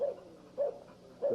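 Fat Bill, a hunting dog with a pin in his leg and a bobtail, gives three short, faint, evenly spaced barks in a yard.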